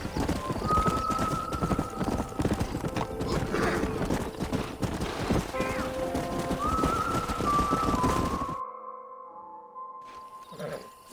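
Horse hooves clip-clopping on ground in the Western video game Red Dead Redemption, a steady close rhythm of hoofbeats with faint bird calls and a whistle before the sound cuts out abruptly.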